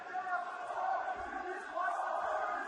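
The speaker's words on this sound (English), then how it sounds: "Every positive thing St. Preux does is greeted with a loud cheer from the fans here in Nashville" A crowd of fans cheers at a UFC fight in Nashville, a sustained, distant roar with rising swells, heard beneath continuous commentary from the broadcast announcers.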